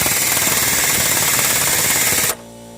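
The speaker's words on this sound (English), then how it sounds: "I'm using an impact gun and I'm securing the bolts." An impact gun hammers steadily on 21 mm cradle bolts during a motor mount replacement on a 2004 Chrysler Pacifica, with a loud continuous rattle up close that cuts off sharply near the end, with no voices.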